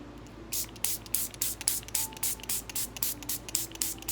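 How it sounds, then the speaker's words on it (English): Lemon juice misted from a little travel-size spray bottle: about a dozen short, crisp spritzes in a quick, even rhythm, close and clear with nothing else around them. "I also keep lemon juice in a little travel size sprayer. That way I can lightly spritz."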